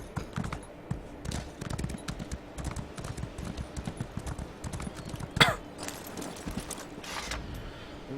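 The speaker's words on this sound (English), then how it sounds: "There's a horse." Horse walks in The Elder Scrolls Online video game, its steady hoof clops close and regular over faint ambient game sounds, with a brief sharp sound midway.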